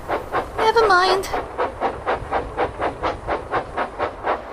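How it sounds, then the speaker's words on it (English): A steam locomotive puffs along in a steady, evenly spaced rhythm of chuffs, loud and close, after a brief whistle-like tone at the start. "Rosie puffed towards Lower Sudbury Station."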